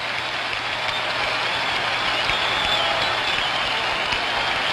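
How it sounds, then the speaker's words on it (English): A stadium crowd at the 1975 World Series Game 6, Reds at Red Sox at Fenway, roars after a base hit: a dense, continuous wash of cheering and applause that holds steady throughout. "Crowd comes alive"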